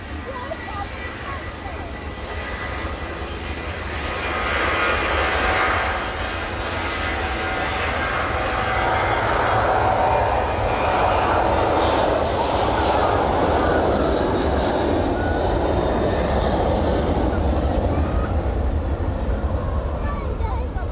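A Ryanair jet airliner departing East Midlands Airport, its steady engine roar building and holding loud and broad throughout, with a voice talking over it.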